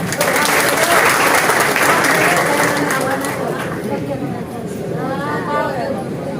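Sustained applause from a crowd welcoming the Delhi mayor at a public event in Narela, loud and continuous clapping mixed with crowd chatter, gradually thinning toward the end.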